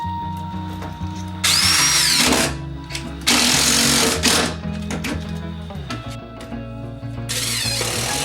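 A power drill driving 1.5-inch screws through plywood into a wooden loft bed frame, three loud whirring bursts of a few seconds each, close by, separated by brief pauses with a low background hum.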